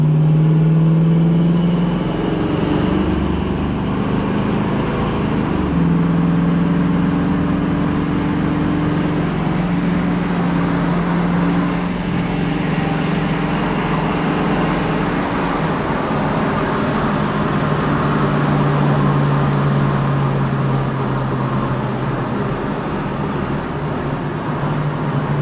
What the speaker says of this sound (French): Ça accélère, ça pousse, c'est sympa, c'est sportif